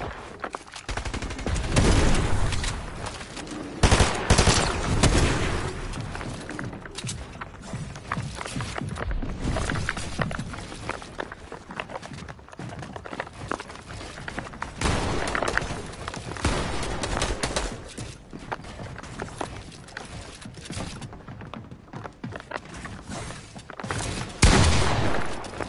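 A turret firing in a Fortnite match: rapid bursts of gunfire repeating in clusters across the stretch, loud and close, with sporadic impacts and little talking.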